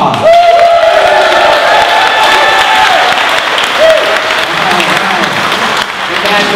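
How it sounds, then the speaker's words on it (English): A large crowd applauds and cheers for armed forces members at a Corvette Dream Giveaway award ceremony, a loud, sustained wash of clapping with whoops and shouts, and a voice calling out over it. "Let's give our heroes a round of applause."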